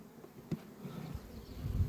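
Honey bees buzz at a hive entrance during a feeding period, a faint, steady low hum with a couple of brief louder passes close by.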